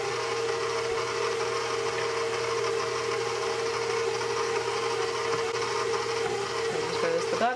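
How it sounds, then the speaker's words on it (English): An electric mixer running on low through scone dough for buttery raisin scones, a steady motor whir with a constant tone throughout, close by and with no talking. "Let's mix it up well on low so it doesn't fly all over the place."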